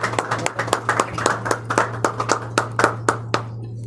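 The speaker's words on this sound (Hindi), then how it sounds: "हम सबसे पहले आज के कलाम को वेलकम करेंगे भरपूर तालियों के साथ, और इसके साथ ही पास्टर जावेद को भी वेलकम करे" Audience applause at a Hindi-Urdu church service welcoming the sermon, a steady run of sharp, fairly close hand claps over a low constant hum, fading out near the end.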